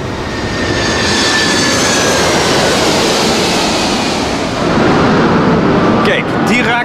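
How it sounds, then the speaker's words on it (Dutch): A low-flying airplane comes in to land close overhead near an airport, a loud, sustained engine roar that swells toward the end as voices break in briefly. "Ja, dat was een vliegtuig."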